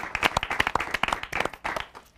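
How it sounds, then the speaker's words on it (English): An audience at an Indian talk show gives a round of applause, a burst of scattered claps rising and thinning over a couple of seconds, heard fairly close with no voices. "I think we should give him a big round of applause for doing that."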